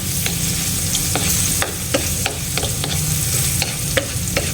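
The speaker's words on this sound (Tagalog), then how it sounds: "igisa natin ang ating luya" Ginger sautéing in a pan for crab in coconut milk with squash, a continuous close sizzle broken by repeated scraping strokes of stirring at an irregular rhythm, with no voices.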